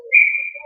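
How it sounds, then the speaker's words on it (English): A referee's whistle at an ice hockey game between the Rapid City Thunder and the Tigers gives one sharp, steady, high-pitched blast lasting just over half a second, clear and alone. "And right away, a whistle."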